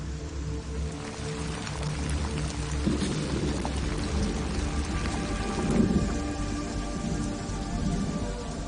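Rain falls heavily over a dry, overheated volcanic landscape, a constant broad wash of downpour with low rumbling thunder rolling underneath, loudest around the middle.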